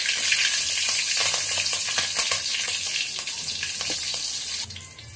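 Vegetables sizzle and crackle in hot oil, a steady loud frying hiss with occasional stirring clatter, no voices.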